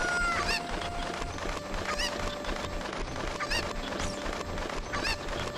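Cucco chickens from the video game The Legend of Zelda: Ocarina of Time cluck and squawk in repeated sharp bursts every second or so over a busy game background, with no talk.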